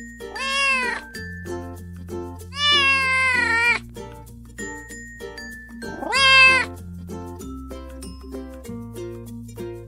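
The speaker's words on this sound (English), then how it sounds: "kitten." A kitten meows three times, high and drawn out, with gaps between calls and a quiet background hum.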